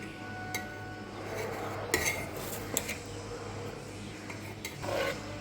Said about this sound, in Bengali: এবার আবার ভাতগুলো সব ঢেলে দিলাম